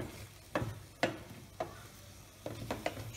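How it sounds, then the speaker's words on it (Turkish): An omelette is stirred in a hot pan, five or six distinct scraping strokes of the utensil at uneven intervals over a soft steady sizzle, close and fairly quiet, no talking. "Şimdi bunu pişmeye yakın Biraz karıştırıyorum."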